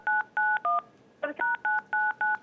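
A telephone keypad sends nine short, evenly spaced dialing tones during a Korean real-estate call-in broadcast, three beeps, a pause with a brief click, then six more, clear and close.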